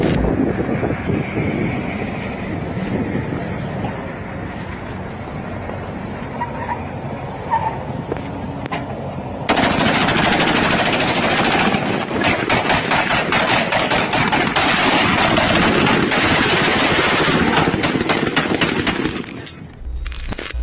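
Rapid automatic gunfire crackles in dense bursts during an armed attack on the Monterrey-Nuevo Laredo highway near Puente Corona. Wind buffets the microphone throughout, and the shooting grows louder and more continuous in the second half.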